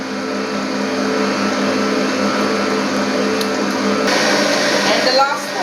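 An electric mixer beats batter for a fluffy lemon sponge cake, giving a steady, continuous whirring drone that runs loud and unbroken throughout with no pauses.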